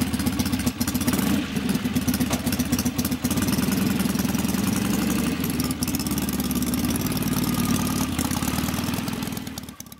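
A restored 1967 BSA Spitfire motorcycle engine with twin Amal Concentric carburettors runs steadily nearby, a loud, continuous throbbing idle with mechanical clatter that holds for the whole stretch and fades slightly at the end.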